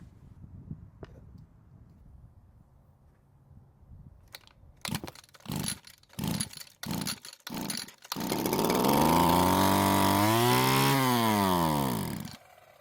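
Stihl FS 81 string trimmer, carburetor primed with fuel, pulled over several times with sharp rope-start bursts before the small two-stroke engine catches and runs loud and steady, revving briefly up and down.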